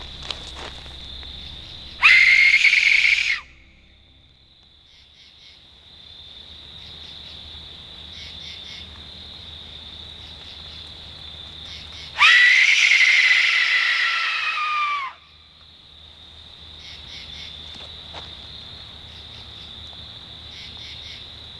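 In the Pine Barrens at night, a hand-held call is blown twice to imitate the Jersey Devil's scream, each a loud, wavering, shrieking blast of about one to three seconds, standing out over a constant shrill chorus of crickets and insects.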